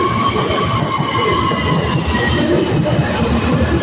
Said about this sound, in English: Wow, the train!